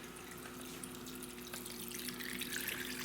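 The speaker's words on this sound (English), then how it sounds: "Now, meanwhile, I'm going to put some water in here." Water pouring from a tap into a pot for cooking rice, a steady, soft rushing stream with a faint hum underneath, rising slightly toward the end.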